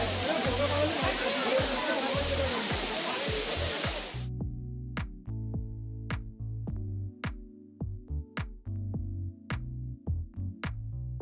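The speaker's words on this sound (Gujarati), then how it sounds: "ખૂબ જ સુંદર વોટરફોલ પ્રકૃતિની ગોદમાં આવેલો છે" The Bilpudi hidden waterfall in Dharampur, Valsad, roars as a dense, steady rush of falling water for about four seconds before it cuts away to other, rhythmic sounds.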